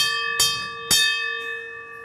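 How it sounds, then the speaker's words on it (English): A bell strikes twice in quick succession, each clear ring sustaining a steady, shimmering tone that lingers between hits and slowly decays. "Ring the bell."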